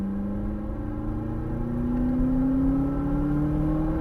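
An exotic car engine on a racetrack pulls hard and steadily, its pitch climbing smoothly as it accelerates, a loud, sustained drone with no talking.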